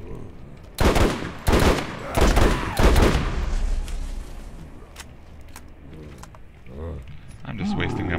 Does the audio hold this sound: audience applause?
no